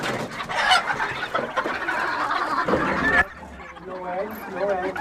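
Chickens cluck and murmur up close in a winter coop, the busy clucking giving way to softer, rising calls near the end, with no talking.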